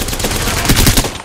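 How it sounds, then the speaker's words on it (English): Gunfire in Apex Legends: a dense, loud, continuous burst of rapid shots with no pauses. "Shooting."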